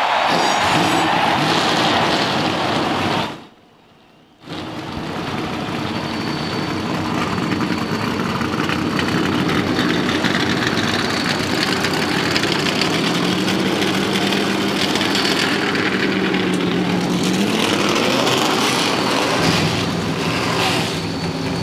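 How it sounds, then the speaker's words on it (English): NASCAR stock cars at Bristol Motor Speedway for the 1999 Goody's Headache Powder 500 fire up and idle together, a dense, loud engine roar that cuts out briefly, then returns and holds steady with a rising rev near the end. "Gentlemen, start your engines."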